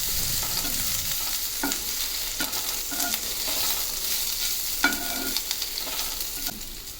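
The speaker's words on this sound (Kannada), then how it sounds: "ಜಜ್ಜಿ ಇಟ್ಕೊಂಡಿರುವ ಶುಂಠಿ, ಬೆಳ್ಳುಳ್ಳಿ ಮತ್ತು ಜೀರಿಗೆ ಇಷ್ಟನ್ನು ಚೆನ್ನಾಗಿ ಕೆಂಪಾಗೋ ತನಕ ಹುರಿದುಕೊಳ್ಬೇಕು" Crushed ginger, garlic and cumin seeds frying in oil in a pan, a steady close sizzle broken by scrapes and knocks of a spoon stirring, with no voices.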